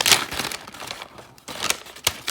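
A tight LEGO plastic parts bag crinkles and crackles as it is worked open, with irregular sharp bursts of rustling and short pauses in between, close by.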